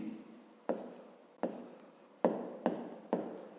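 Pen writing on paper while working a fifth-grade maths exercise, close and quiet, with five distinct sharp taps starting strokes that each trail into soft scratching.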